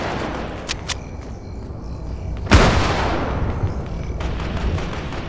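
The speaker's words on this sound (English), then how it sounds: "Right here I was taking some shots at him" Gunfire in a Fortnite match: a few sharp shots, then one loud boom-like blast with a fading tail, heard over a steady game background hiss.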